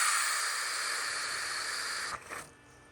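Pressurized air hisses steadily from the relief valve of a Pentair pool cartridge filter, a loud continuous rush that breaks up and fades near the end.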